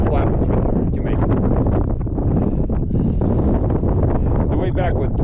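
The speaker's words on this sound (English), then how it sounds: "We're definitely in like the super windy section." Strong gusty wind on a high mountain trail in Rocky Mountain National Park buffets the microphone in a loud, continuous roar.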